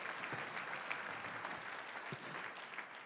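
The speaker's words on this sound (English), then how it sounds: "Let's give a big round of applause for a wonderful, wonderful job on the video." Audience applause at the Hope Through Caring charity gala, a steady, fairly faint wash of clapping from a large room that holds evenly for about three seconds with a few louder claps standing out.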